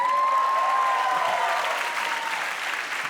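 A comedy stand-up show audience claps and cheers in a theater, a full, continuous burst of applause lasting a few seconds with a faint tone running beneath it.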